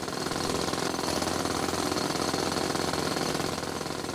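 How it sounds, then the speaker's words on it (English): Mining drill in the Chipmatic automation game, a loud, dense, continuous grinding rattle like a jackhammer that keeps a steady level throughout. "That drill sucks ass, dude."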